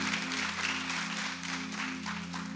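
Church congregation clapping during a sermon, a moderate patter of hands over a constant low hum from the sound system, fairly distant and steady for a few seconds.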